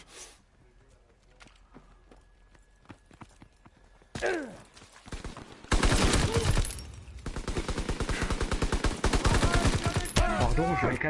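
Gunfire rings out in the Call of Duty WWII beta, sparse single shots at first, then dense rapid bursts that grow loud and continuous, with someone speaking French over the action.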